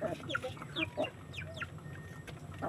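Chickens clucking at feeding time: a handful of short, close clucks and chirpy calls scattered over a few seconds, soft against a low steady background hum.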